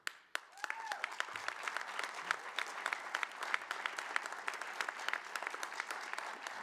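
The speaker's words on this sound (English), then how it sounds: "some council people are being polite and clapping" Polite clapping from council members at a city council session in Newark, a steady patter of many hands filling the room at moderate distance, sustained throughout with no voices standing out.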